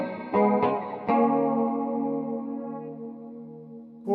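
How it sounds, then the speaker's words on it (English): Guitar through a Cuvave 9 Type reverb pedal on its chorus setting, with decay high and mix low: a few plucked notes swell into a shimmering, wavering wash that slowly fades. "Chorusing on the reverb."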